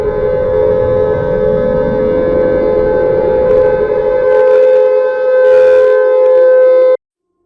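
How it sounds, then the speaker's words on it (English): Loud civil defense air raid siren wailing at a steady held pitch with a rising tone sweeping beneath it, then cut off abruptly. "Sirens blared following the ad,"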